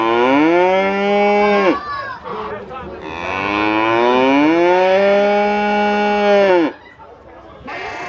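A calf in a livestock pen at the 2019 Bob Evans Farm Festival moos loudly in two long drawn-out calls close by, with a short break of background chatter between them and another call starting at the end.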